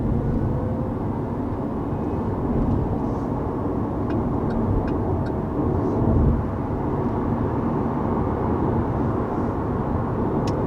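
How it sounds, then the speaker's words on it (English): A 2022 Chevy Bolt electric car gathering speed on the road, a steady broad rush of tire and wind noise from inside the cabin, with a faint whine and a brief swell midway. "so first getting up to speed here with this 2022 Bolt"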